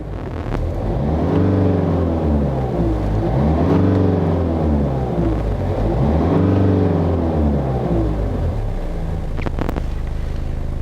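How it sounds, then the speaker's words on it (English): A car engine rising and falling through three long revs as the gas pedal is pressed and released, loud and close, with a small clatter near the end. "I'm going to press the gas pedal."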